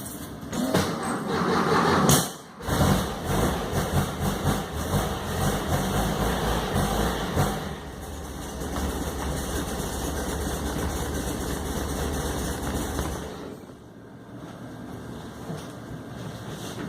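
An air-cooled Volkswagen engine, cranked on an ultracapacitor instead of a battery at low voltage, fires and runs with a steady, loud idle for several seconds before cutting off near the end.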